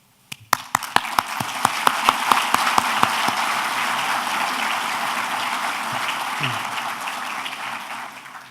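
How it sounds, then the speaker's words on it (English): Audience at a Medal of Valor ceremony breaking into applause, starting with a few sharp separate claps that quickly merge into steady, full clapping from a large crowd. "you may applaud any time"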